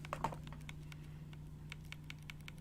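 A code being typed on a computer keyboard: a quick, uneven run of light, close key clicks over a low steady hum, quiet and with no talk.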